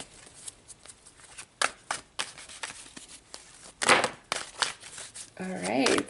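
Tarot cards are shuffled by hand, a series of quick riffles and slaps in uneven bursts, close and crisp, with a voice speaking among them near the end.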